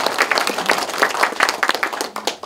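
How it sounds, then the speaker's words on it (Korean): At a town hall meeting in a Korean township, a small audience claps briefly, with distinct individual hand claps forming an uneven, fairly close patter that thins out toward the end. "박수 한 번만 해주세요"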